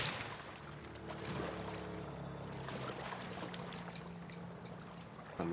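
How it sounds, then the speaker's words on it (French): A vehicle engine in the video game The Last of Us, a quiet low humming drone running steadily beneath faint ambient noise, with no talking. "Un moteur, ça?"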